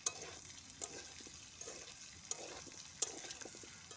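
Potatoes sizzle in a hot pan with a steady crackling hiss, and a utensil scrapes and clicks against the pan in irregular strokes, close and moderately quiet.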